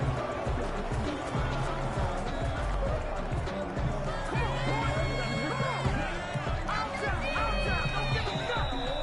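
A stadium crowd murmurs and cheers steadily throughout a video game American football broadcast, heard continuously beneath game sounds and commentary.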